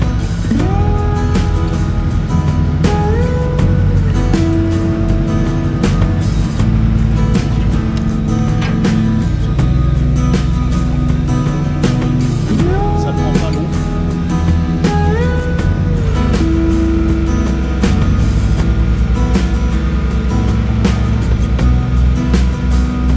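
The small motor of a chain ferry hauling itself across the Charente river at Chaniers, a steady low drone running through the crossing beneath scattered brighter tones and water sounds.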